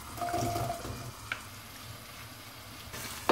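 Three medium onions frying in oil in a pan over a medium flame for a desi-style shepherd's pie, making a continuous close sizzle with a few light stirring clinks and no talking.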